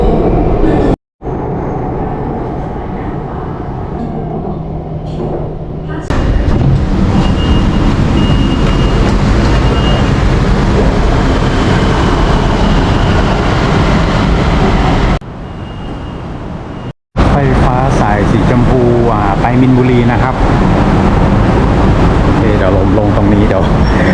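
An electric train rumbles past loud and close, a steady rolling roar with brief drops in level, while people talk over it.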